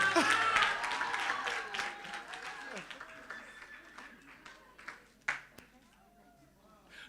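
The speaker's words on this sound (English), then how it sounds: "just keep giving her the round of applause" Applause rises from the audience at a media awards ceremony for a South African Broadcasting Corporation national winner, starting dense and loud, then thinning into scattered claps and a few whoops as a voice talks over it.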